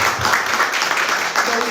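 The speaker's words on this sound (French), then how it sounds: "Nous pouvons applaudir pour notre frère." A church congregation applauds to welcome a new brother, a dense, steady wash of clapping lasting the whole moment, with voices mixed in.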